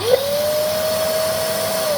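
Karcher WD 2 Plus wet and dry vacuum cleaner with a soaking-wet filter and jamming motor, a loud close steady whine that rises in pitch as it starts, then runs evenly.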